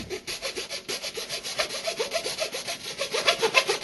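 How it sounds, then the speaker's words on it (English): Hand hacksaw cutting a drain pipe to length while fitting a garbage disposer under a sink, steady rapid back-and-forth rasping strokes close up, fairly loud and unbroken, with no talking. "You need a hacksaw or a plumber's saw to do the cutting"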